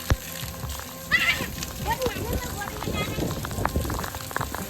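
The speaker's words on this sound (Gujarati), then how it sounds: "એકદમ ભારે વરસાદ ચાલુ થઈ ગયો" Heavy rain falls outdoors at a Janmashtami fair, a dense steady patter on surfaces, while voices talk and shout over it and an occasional horse-like whinny cuts through.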